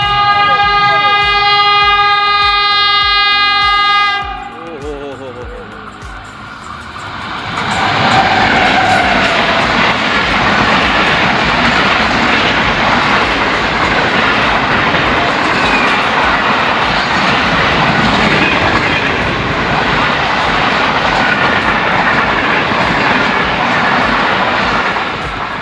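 A long horn blast from the 2 Down Khyber Mail, running late, as it passes Gilawala railway station in Pakistan, then a loud, close roar of wheels and carriages rushing by steadily to the end.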